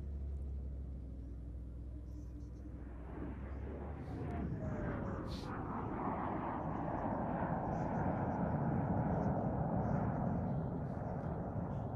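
A jet aircraft with a Rolls-Royce Avon engine performs at the Shoreham air show in England. Its roar swells from a distant rumble into a loud, sustained broadband blast, with a falling whine as it passes.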